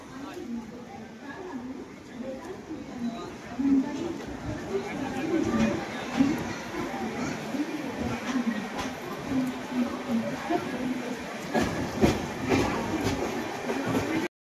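The Pragati Express pulls out of Dadar station in Mumbai on its way to Pune. A steady rumble and rail clatter carry under voices and chatter on board.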